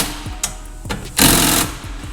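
An electric impact tool with a 13 mm socket tightening a bolt while installing a seat door kit on a vehicle, a close rhythmic rattling hum with one louder half-second burst as the bolt seats.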